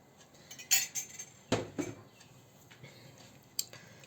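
A utensil stirring pizza dough ingredients of flour, water and honey in a bowl, giving a few light clinks and scrapes, sparse and close, with quiet gaps between strokes.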